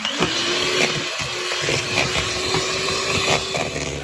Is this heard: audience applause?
no